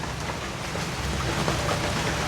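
Steady rain falling as it starts to pour, a dense, loud, continuous hiss of drops with no break and no voices.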